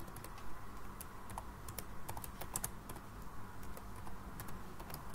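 Keys clatter steadily on a computer keyboard as an example sentence is typed out: quick, light, irregular clicks at a moderate, close level, with no voices.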